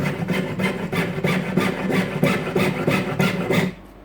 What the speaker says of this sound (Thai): ค่อยๆเลื่อย ชิดเส้นด้านในไปก่อนนะครับ